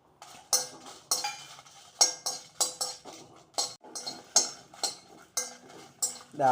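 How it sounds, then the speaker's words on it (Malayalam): Red chillies roasting in a pan for homemade sambar powder, with a utensil stirring and scraping in quick repeated clinks and scrapes, close and fairly loud, with no talk over it. "മുളകും കൂടെ അങ്ങ് വറുത്തെടുക്കാം."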